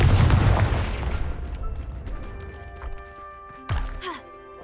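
A Confringo blast spell from Hogwarts Legacy hits with a heavy booming thud, its rumble fading over a few seconds before a second, smaller impact rings out with a metallic tail.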